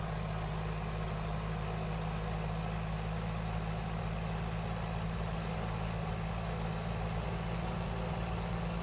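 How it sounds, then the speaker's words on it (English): A de Havilland Tiger Moth biplane engine in a flight simulator runs at a steady idle, giving an even, unbroken low drone throughout with no change in pitch. No talk. "Now the engine is ready to be run up and tested"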